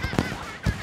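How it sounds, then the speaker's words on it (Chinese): Festive fireworks and firecrackers set off by households for Chinese New Year, heard as two separate loud bangs with some space between them and no talk. "家家户户放起烟花爆竹"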